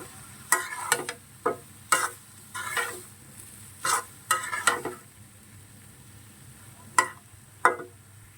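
Mixed vegetables stir-fried in a pan after browned onions, heard as a quiet low sizzle broken by a series of distinct spatula scrapes and clinks against the pan, spaced irregularly and close by.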